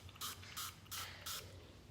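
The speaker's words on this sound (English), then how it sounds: "So literally 5 sprays under the tongue and you're good to go." Four quick, evenly spaced hisses from a small pump spray bottle aimed under the tongue, close and fairly quiet, with no talking.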